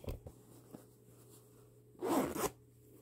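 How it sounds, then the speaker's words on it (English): A hidden zipper on vintage-style dungarees being pulled open, one short, close rasping zip after a quiet pause with faint handling noises. "open up my zipper"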